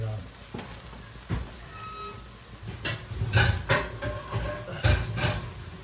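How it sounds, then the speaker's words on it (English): Chicken stir-frying in a heavy cast iron pan, a sizzle punctuated by sharp clanks and scrapes of a utensil against the metal, growing busier and louder toward the end. "I prefer to stir fry in my heavy cast iron pan because this baby gets really hot"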